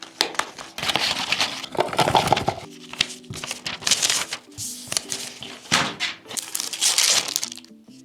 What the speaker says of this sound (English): Why do they make the package impossible to open without ripping it apart?